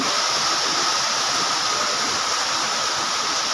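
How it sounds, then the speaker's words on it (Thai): Water rushing and flowing behind a house, draining into a hole, a steady loud wash of noise that stays constant throughout, close by and without talk. "น้ำไหลอีกแล้ว"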